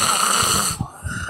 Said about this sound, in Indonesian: Ngorok.